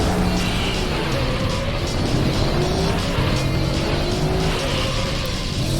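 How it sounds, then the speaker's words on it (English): A race car engine roars loud and steady in the Auto Modellista video game, with rising and falling pitch as it revs, and tires squealing through corners. "Because the engine noise is the main attraction for me"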